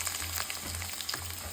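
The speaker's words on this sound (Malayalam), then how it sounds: "സവാള ഇട്ട് നന്നായിട്ട് വഴറ്റി എടുക്കുക." Sliced onions fry in hot oil for chicken curry, a brief, close, steady sizzle with light crackling.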